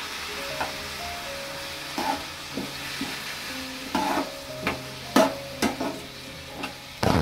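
Tomatoes going into a bitter gourd curry frying in a pan, a steady soft sizzle with intermittent scraping and stirring clinks, no talking.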